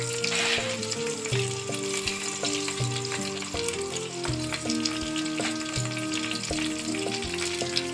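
Masala with browned onions frying for prawn biryani, a steady close sizzle with occasional stirring scrapes and clinks, no voices.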